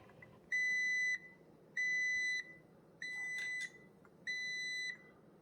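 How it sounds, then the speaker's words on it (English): Cuisinart Coffee Center SS-15 coffee maker beeping as brewing finishes, four steady high-pitched electronic tones of equal length in an even rhythm, close and clear over faint room noise. "So the Cuisinart does beep at you, and as far as I know, there's no way of turning that off."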